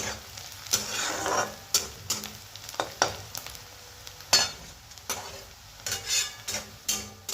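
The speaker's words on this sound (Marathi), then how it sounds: "आपला कांदा चांगला गोल्डन कलर येईपर्यंत परतून घेतलेला आहे आपण" Onion sautés in a pan until golden brown. A soft frying hiss runs under repeated spatula scrapes and clicks that come at an uneven pace, fairly quiet and close, with no voices.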